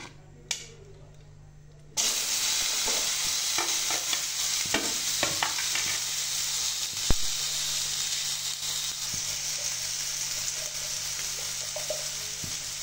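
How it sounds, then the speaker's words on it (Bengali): Parboiled potato chunks frying in about three tablespoons of hot oil in a pan, a steady close sizzle with scattered crackles and stirring scrapes after a quiet start. "3 টেবিল চামচ তেল দিয়ে দিলাম। আমি এখানে আলুগুলিকে টুমো টুমো করে কেটে একটু সেদ্ধ করে নিয়েছি। এখন এগুলিকে ভেজে নেব"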